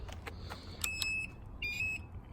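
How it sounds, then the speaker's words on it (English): Turn-signal beeps from a 2019 Taotao TBR7 motorcycle: sharp, high electronic tones sounding in two bursts, the second a pair of quick beeps, over a low background hum. "There's that horrible beep."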